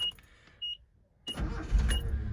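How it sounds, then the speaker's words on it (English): A 1982 Datsun 720 sports truck engine cranks briefly and catches, then settles into a steady, fairly loud idle close by after a few faint clicks. "I'll start it up here in a second."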